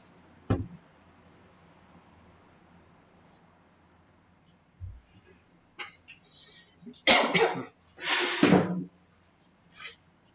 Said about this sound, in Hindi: बार बार खांसी आ रहा है।